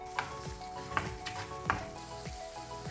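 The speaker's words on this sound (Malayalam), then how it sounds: "നമുക്കിനി ഇതിലേക്ക് പച്ചമുളക് ഇട്ട് കൊടുക്കാം, കുരുമുളക് ഇട്ട് കൊടുക്കാം. ഒന്നുകൂടി ഒന്ന് വഴറ്റിയെടുക്കണം." Green chilli and black pepper sautéing in a hot pan, with a steady close sizzle broken by several rhythmic scrapes and clatters of stirring.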